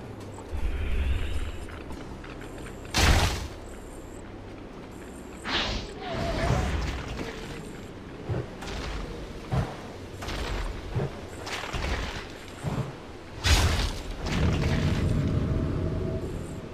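Scattered battle noise from forces under attack in a Warcraft III match on the Springtime map: sharp booms and impacts rise sporadically over a low ambient bed, with occasional brief unit voices.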